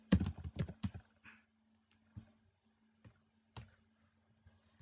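Keys clack on a computer keyboard, starting with a quick burst of close, crisp strokes and then thinning to a few isolated taps over a quiet background.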